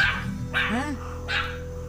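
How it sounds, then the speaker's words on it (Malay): A dog barks a few times close by, sharp yappy barks with a whining edge, against a steady low hum. "ni kenapa ini anjing bising?"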